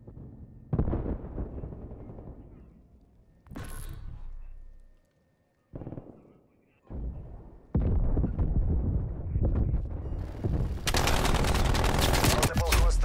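Hostile sentry turrets fire in a video game, sustained bursts of rapid gunfire that cut in and out, with a heavy continuous barrage building toward the end.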